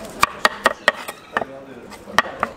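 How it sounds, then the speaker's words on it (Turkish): Cleaver chopping boiled beef tongue and cheek meat on a wooden board at an Istanbul street söğüş stall, a series of sharp close thwacks in uneven bursts with faint talk behind. "Dili mi doğradın şimdi? Yok. Dil ve yanak."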